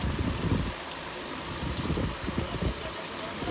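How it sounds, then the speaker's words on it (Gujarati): Light rain patters steadily over a village during a monsoon downpour, a soft, even wash of drops heard from nearby with no voices. "વરસાદ ધીમો આવે છે"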